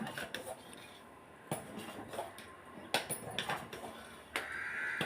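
A spoon scraping and knocking against a metal pot while millet porridge is stirred, irregular clinks and rubbing strokes, close and moderately loud over faint background noise.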